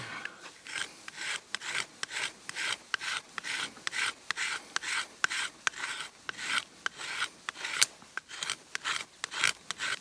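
A Smith's Pack Pal tinder maker rasps a fire starter rod in quick, regular strokes, each a short scraping burst in a steady back-and-forth rhythm, close and clear with no talking.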